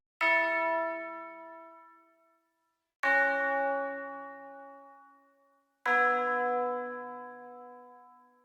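Three struck tubular bell notes, each ringing with bright layered overtones and decaying slowly before the next strike, spaced evenly about three seconds apart and following the root notes of a music beat.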